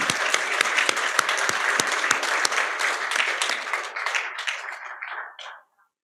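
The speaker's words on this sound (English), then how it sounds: "a big round of applause for our dear Secretary." An audience at a manufacturing summit claps in a sustained round of applause, loud and dense at first, then thinning and fading out to silence near the end.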